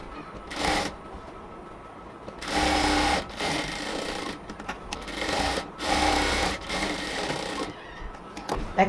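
Sewing machine joining a strip onto a ladies' pant, whirring in a few bursts of one to two seconds separated by brief stops and handling of the fabric, close and moderately loud without speech.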